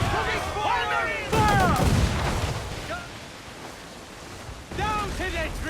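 Ship cannons fire in the Assassin's Creed IV Black Flag video game, heavy booming blasts over rumbling sea-battle noise, with voices shouting at intervals.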